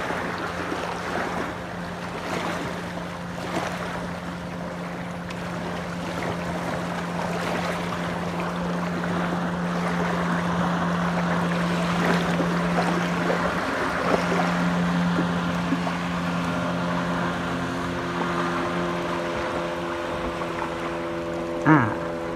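A WiT Bass Boat 390 running on open water during a test, with a steady outboard engine drone and rushing water and wind noise that build gradually, heard close and loud for over twenty seconds without speech.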